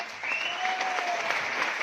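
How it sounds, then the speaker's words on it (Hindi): Clapping from an audience at a business seminar, a steady, moderately distant wash of hands that stays even for a couple of seconds with no talk. "तो फिर जोरदार तालियां होनी चाहिए"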